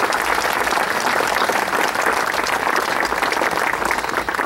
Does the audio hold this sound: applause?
yes